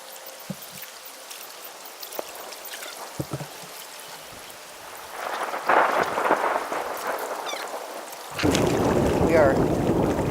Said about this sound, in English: We are literally sandwiched between two thunderstorms.